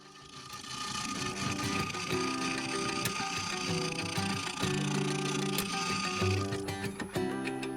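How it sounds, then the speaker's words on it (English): An Easy Wood Tools finisher hollowing out the inside of a dry walnut vase on a lathe, a continuous loud scraping whir with rhythmic chatter over the steady hum of the spinning machine, with no talking. "I can move on to cleaning out the inside, and as before, for this I will be using the Easy Wood Tools finisher"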